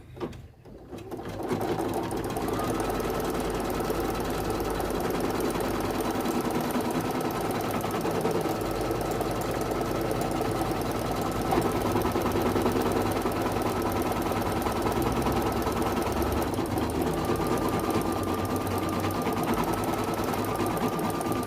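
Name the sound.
embroidery machine sewing satin stitch on quilted vaccine card cover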